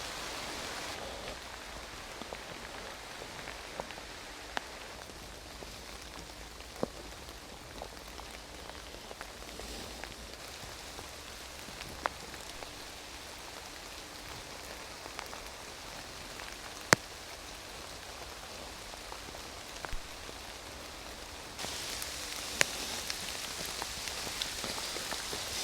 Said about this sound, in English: the only good thing about when it's raining is at least it's nice and quiet